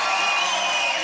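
A crowd at a beatbox battle showcase cheers and whoops for the winner, a dense, loud, sustained roar with one shrill whistle-like tone running through it.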